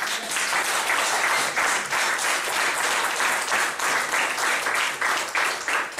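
Church congregation at a French-speaking gospel gathering applauding together, a dense, steady wash of clapping that rolls on for several seconds with slight swells, no voices rising above it.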